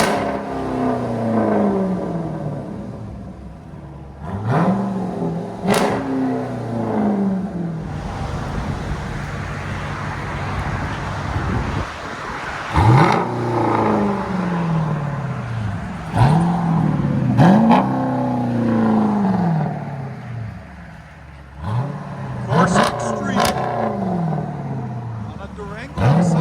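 A 2018 Dodge Durango SRT 392 with a 6.4L HEMI V8, Corsa Extreme exhaust and rear muffler delete, blipped through a series of loud rising revs that fall away between pulls, recorded outside with a voice talking in the gaps.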